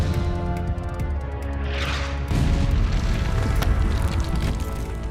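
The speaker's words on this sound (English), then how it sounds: "The gunners ramp up their shelling of the already weakened parts of the fortress." Cannon fire pounds fortress walls in a siege, heavy booming impacts and crashing debris building into a dense, loud roar after a sharp burst.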